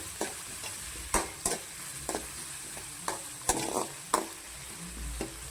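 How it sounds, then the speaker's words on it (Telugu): Boti fried with onion and green chillies in a pan, a steady sizzle broken by repeated scraping stirs and clinks of a spoon at an uneven pace, close and clear. "బోటికి అయితే ఉల్లిగడ్డ పచ్చిమిర్చి అయితే వేసి ఫ్రై చేసుకుంటున్నానండి"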